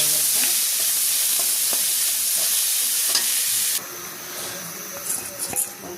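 Greens and boiled stalks sizzle and hiss steadily in a hot pan with a strong steamy spray, stirred now and then with scraping clinks; the hiss drops sharply partway through as the stirring continues more faintly.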